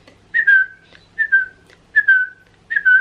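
A human voice whistles in imitation of a phone ringtone, four short bright rising-then-falling whistle bursts repeating at a steady pace, close and clear against quiet.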